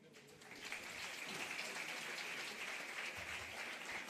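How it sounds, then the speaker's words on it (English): A convocation ceremony audience applauds after a speech, a broad even rush of many clapping hands that swells in the first second, then holds steady and fairly faint, heard alone without speech. "please give another round of applause to Dr. Mohan Patirana"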